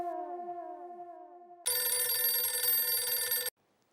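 A mobile phone rings loudly and close: a steady electronic ringtone blares for about two seconds and then cuts off abruptly, following a short falling melodic jingle.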